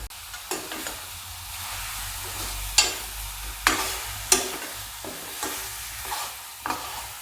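Broiler chicken meat fries in a pan while being stirred, a soft steady sizzle punctuated by about eight sharper scraping and clanking strokes at irregular intervals, close up and without talk.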